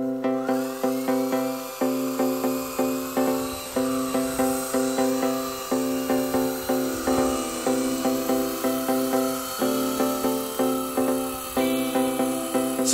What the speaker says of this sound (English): Before giving up entirely, I decided to try lifting just one paint bottle with the helicopter.